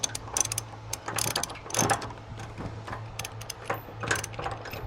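A socket wrench ratchets on the bandwheel of a Woodland Mills HM 130 Max sawmill, giving bursts of close, rapid clicking strokes over a steady low mechanical hum.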